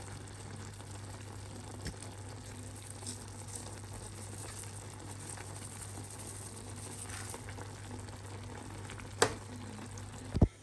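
Leek soup simmers in a pot with a continuous soft bubbling and faint sizzle, broken near the end by a couple of sharp clinks.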